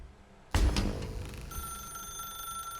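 A telephone in The Stanley Parable Ultra Deluxe starts ringing suddenly and loudly, settling into a steady bright electronic tone that continues to the end.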